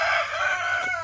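Backyard chickens give a short burst of close clucking and squawking calls, a brief bright vocal sequence heard without speech.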